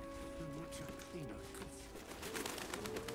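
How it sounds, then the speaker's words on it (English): Birds coo softly in Baldur's Gate 3, repeated low calls beneath a steady musical drone and ambient game sounds, with a brief burst of rustling noise toward the end. "Who put birds in here?"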